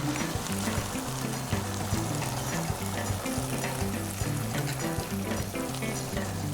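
Shrimp chili sizzles and fries loudly in a wok in a Sichuan restaurant kitchen, with continuous crackling and spattering while a steady pattern of low tones runs underneath.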